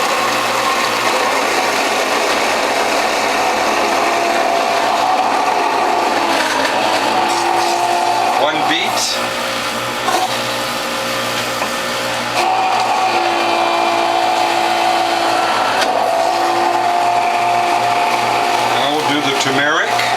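A WHF juicer fitted with a Near Zero Maxi Shredder cutter juicing tomatoes: a loud, steady motor whine with grinding, ratcheting churn that dips briefly midway, while someone talks over it.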